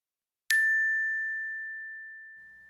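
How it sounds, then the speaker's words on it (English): A single bright notification bell dings once, a clean high metallic tone with a sharp strike that rings on and slowly fades over a couple of seconds, alone in silence. "go ahead and hit that notification bell"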